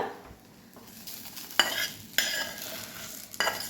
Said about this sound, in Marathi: हे मिक्स करून छान असं ह्याला भाजून घ्यायची आहे भेंडी